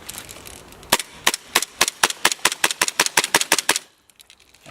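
An SSP-45 carbine kit, a converted high-capacity pistol, fires in game about sixteen sharp cracks in a quick rhythmic string, loud and close, followed by a faint tail of softer clicks.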